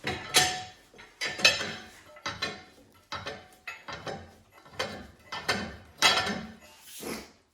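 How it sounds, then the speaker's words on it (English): A small-block engine's crankshaft is turned by hand through a full revolution, giving a run of close, rhythmic ratcheting clicks in short bursts with brief pauses between them. No voices are heard. "we can try and see if we can get the full revolution on the crank"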